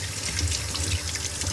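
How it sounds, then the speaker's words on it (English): Water runs from a faucet to rinse a dirty sink drain pipe, a steady, loud, close splashing rush with no pauses. "Maybe you can get some of the stuff off just with water."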